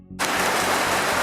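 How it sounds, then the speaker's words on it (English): Heavy rain pouring down outside a shed, a sudden loud, dense hiss that starts after a short quiet moment and roars on steadily. "you have to excuse the rain, it's pissing down outside"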